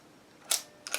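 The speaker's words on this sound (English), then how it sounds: "Set the shutter." A Mamiya Press Super 23 medium-format camera's shutter being set, giving a close, crisp mechanical click followed about a third of a second later by a quicker double click, alone in a quiet room.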